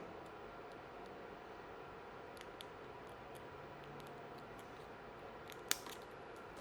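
Scissors snip once through an embroidery machine's plastic thread guide tube, a single short crisp cut near the end over a steady room hum.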